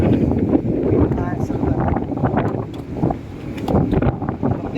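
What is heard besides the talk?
strong wind on Crystal Cove Island, Boracay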